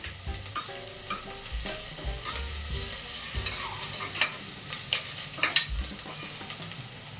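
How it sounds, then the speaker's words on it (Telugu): Ginger garlic paste fries with onions in a pan for mutton curry, a steady close sizzle broken by scraping stirs and light spatters throughout, with no talking. "అల్లం పచ్చి వాసన పోయేంత వరకు ఇలా వేయించుకుందాము."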